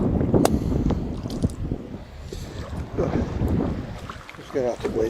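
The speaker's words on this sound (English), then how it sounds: "if you can hear me over the wind" Wind gusting by a river, buffeting the microphone as a steady low rumble with a few stronger bursts, while someone talks over it throughout.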